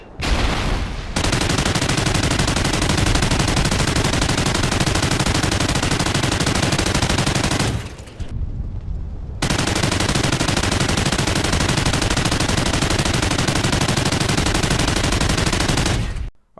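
Chain SAW light machine gun firing in Call of Duty Ghosts at short range, loud sustained automatic bursts of about seven seconds each, separated by a brief pause, with no talk.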